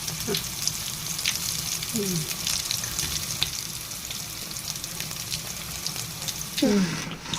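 Pakoras frying in hot oil in a home kitchen during iftar preparation, a steady close sizzle throughout with faint clinks and brief voices in the background.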